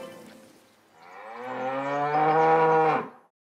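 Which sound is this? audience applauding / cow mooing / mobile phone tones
cow mooing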